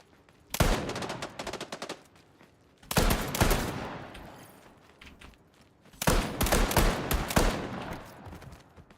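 Three long bursts of rapid automatic gunfire in the shooter game Shrapnel, loud and close, separated by short pauses.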